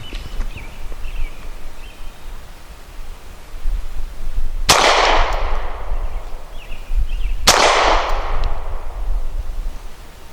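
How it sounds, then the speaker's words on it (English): A Hi Point C9 pistol fires Brown Bear lacquered 115 grain ammunition at a range, two sharp loud shots a few seconds apart, each with a brief decaying ring, against low outdoor background noise. "I'm going to be shooting the Brown Bear lacquered 115 grain."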